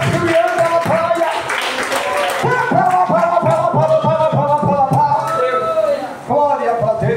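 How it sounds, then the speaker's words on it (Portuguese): Hands clap in a steady rhythm across a church congregation during a Sunday family worship service, mixed with loud singing voices throughout. "Pode bater palmas e dar glória para Jesus"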